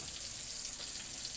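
Food frying in a pan alongside vegetables, giving a faint, steady hiss and crackle that runs unbroken through the short moment.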